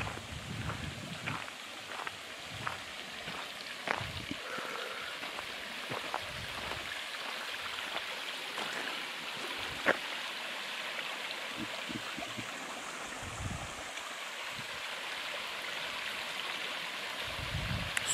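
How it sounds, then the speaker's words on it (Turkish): A mountain stream flows steadily through a highland plateau near Trabzon, making a continuous wash of rushing water that is moderately loud and fills the whole stretch, with occasional brief knocks and splashes on top. "Suyun sesi şahane geliyor ya."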